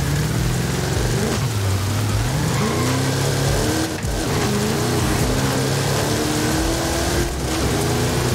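In Forza Horizon 5, a car accelerates on a rain-soaked road, its engine note climbing through gear changes over a constant hiss of rain and spray, loud and close, with no speech.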